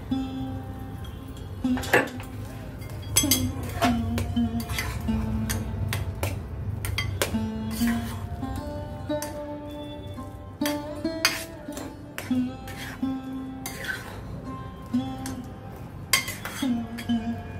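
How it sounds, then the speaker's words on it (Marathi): Potato vegetable being stirred with sugar and salt in a pan on a gas stove, a utensil scraping and clinking against the metal in an irregular run of close, sharp knocks and rattles, with faint background hum. "परत मिक्स करून घेते सगळं।"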